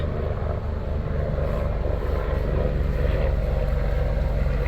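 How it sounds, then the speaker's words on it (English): A steady, low mechanical drone of helicopter rotors flying low overhead hums continuously, loud and close, with no pauses or other sounds over it. "helicopters flying kind of low."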